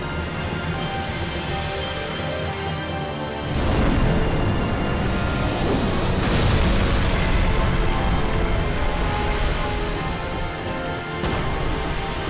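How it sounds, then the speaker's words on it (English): Fire Spin attack effect in Final Fantasy X, a sudden loud whooshing roar of flames that bursts in and swells with booming surges, sustained for several seconds over battle music. "Orin used Fire Spin."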